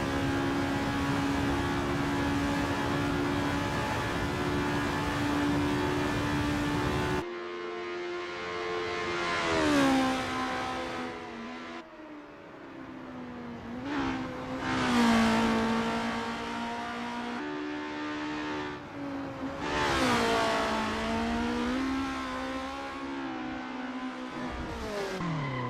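A formula race car engine in the Assetto Corsa racing game screams through a practice out lap, loud and close, with a long steady high drone and then repeated revving climbs, drops and gear shifts.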